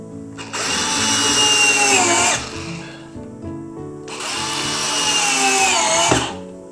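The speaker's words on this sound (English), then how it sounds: "I have some screws, and you have your drill" A power drill driving screws into a canvas frame whirs in two bursts, each spinning up and grinding for about two seconds, close and loud with a short pause between.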